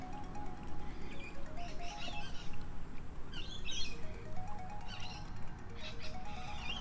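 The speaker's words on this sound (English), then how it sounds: "You can probably hear the birds chirping every time we make it." Birds chirp intermittently over a steady, dense background hum, with scattered high tweets and short calls coming and going throughout.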